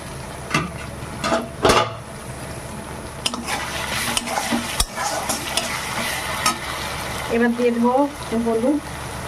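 Spice paste with ground ginger and tomatoes sautéing in a pan, a steady sizzle broken by repeated scraping stirs and clanks of a utensil against the pan, with a voice speaking near the end.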